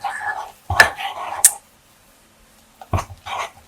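A spoon scrapes and clinks through a thick, doughy mug-meal crust mixture in a bowl, in a few short bursts with quiet gaps between, close up.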